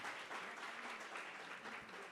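Steady audience applause at a small entrepreneurship workshop, a dense even wash of many hands clapping at moderate distance, continuous and fairly quiet throughout.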